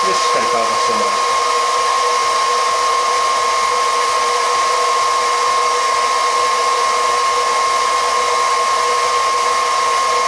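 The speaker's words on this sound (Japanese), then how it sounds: "ドライヤーね、" A hair dryer blows steadily and loudly the whole time, drying cleaned parts of a Shimano Calcutta Conquest baitcasting reel during an overhaul, a constant whirring hiss with no pauses.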